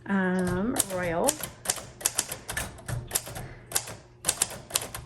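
A 1941 Royal Quiet Deluxe typewriter in brown crinkle finish being typed on: after a short spoken phrase, a series of sharp, close key strikes clacks in an uneven rhythm.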